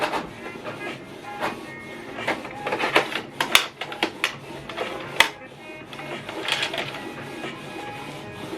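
A Canon PIXMA TR8550 all-in-one printer prints an alignment page, its mechanism whirring steadily with clicks and sharp clunks from the print head shuttling, heard up close.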